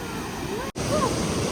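Waterfall at Cascate Nardis near Trento, Italy, roaring as a steady broadband rush close by, with a brief dropout midway and faint voices in the background.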